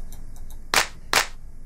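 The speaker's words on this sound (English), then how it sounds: "Then the clap." Two crisp, noisy clap samples from a dubstep drum kit, struck about half a second apart, each a sharp burst with a short bright decay over a low background hiss.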